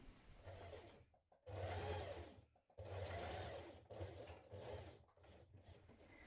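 A sewing machine top-stitches backpack fabric in several close, steady whirring runs with brief pauses between them, each run a rapid mechanical chatter of the needle. No one speaks.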